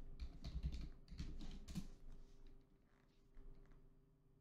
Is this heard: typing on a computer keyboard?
yes